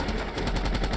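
Machine gun fire from the film Tears of the Sun rips out in a loud, rapid, continuous burst of closely spaced shots.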